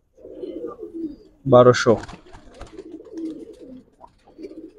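Giribaz pigeons coo softly in low, repeated murmurs at a crowded pigeon market in Old Dhaka, with a loud voice breaking in over the birds partway through.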